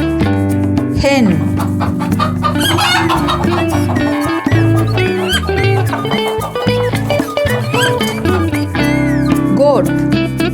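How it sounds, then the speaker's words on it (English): Hen clucking on a farm, repeated clucks over a loud, continuous musical backing throughout. "Hen."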